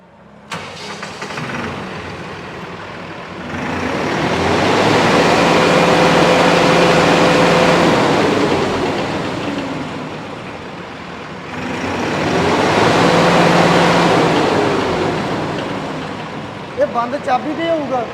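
A Massey Ferguson 9563 4x4 CRDi tractor diesel engine cranks, fires up and runs loud and close, swelling twice in long revs between idle periods, with voices in the background.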